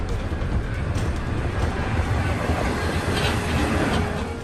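Railway cars pulling apart after a malfunctioning drawbar fails, heard as a loud, steady rolling rumble with rhythmic clatter that holds for the whole stretch, with no voices.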